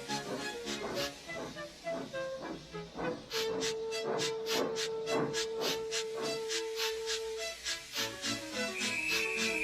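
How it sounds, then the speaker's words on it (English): The steam locomotive Gordon from Thomas & Friends hisses in repeated rhythmic bursts as it backs onto a train, with a long steady tone running through the middle; loud and close, no talking. "Gordon, with much noise and blowing of steam,"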